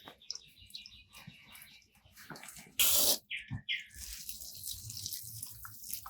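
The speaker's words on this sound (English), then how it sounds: "Alright, I'm going to water this in." Water pours onto soil around a newly planted Brazilian cherry tree in a brief loud gush, followed by softer trickling, with scattered rustles and birds chirping in the background.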